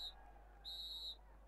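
A referee's final whistle in the Retro Goal football video game on Nintendo Switch sounds as a faint, thin, high tone: a brief chirp, then a longer steady blast of about half a second.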